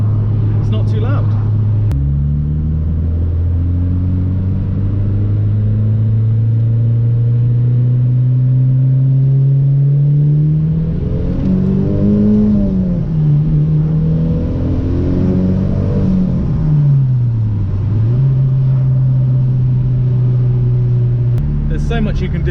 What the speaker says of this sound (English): this exhaust still got a good tone to it, but it's not too loud